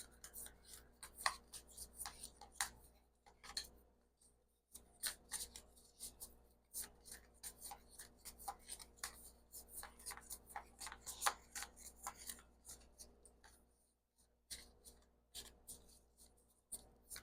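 Deck of cards being shuffled by hand, close and quiet: bursts of riffling and soft slapping with brief pauses between, no talk.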